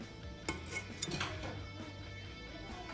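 Knife clinking and scraping against a warming frying pan while it is buttered, with a few sharp metallic taps near 0.5 and 1 seconds and softer scraping between, close and fairly quiet with no talk.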